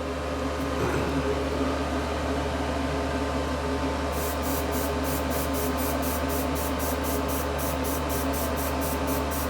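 Misting spray hisses steadily onto a weathered scale model, a continuous loud airy spray held for the whole stretch, with faint rapid ticking joining partway through.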